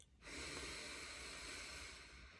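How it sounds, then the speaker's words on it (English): A single slow, deep inhalation during a guided relaxation session, a soft, steady breathy hiss heard close up and alone in a quiet room. "we can take in one last deep breath"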